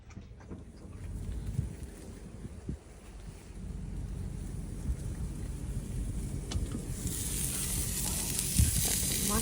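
Steak and mushrooms frying in a pan at a dog show campsite, with a steady close sizzle that grows louder toward the end, alongside outdoor wind noise.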